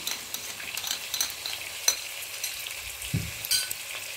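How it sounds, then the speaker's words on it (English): Thyme fries in oil in a pan for a tripe curry, giving a steady crackling sizzle with light stirring scrapes and one dull thump of something added near the end. "Put my thyme to fry too."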